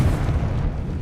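A short, loud explosive boom from the Confringo fire spell in Hogwarts Legacy, a dense low rumbling blast filling the whole second with no pause.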